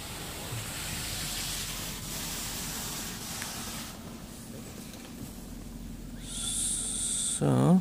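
Pre-soak spray hisses steadily inside a Pioneer car wash in Paris, Ontario, a broad continuous wash of water noise heard from inside the car, growing louder near the end with a rising mechanical whine.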